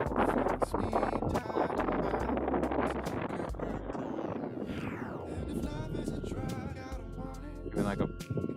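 Strong outdoor wind, gusting to about 30 mph, roars continuously and loudly across the microphone during a small UMX Pitts S-1S RC plane flight, with steady buffeting and no clear breaks.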